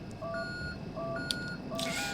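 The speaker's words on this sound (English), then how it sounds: "it beeps like crazy when I go in here" Handheld device in the horror game Conarium beeping like a radar: repeated paired electronic tones in a steady rhythm over a dark ambient drone, with a brief metallic clatter partway through and a burst of noise near the end.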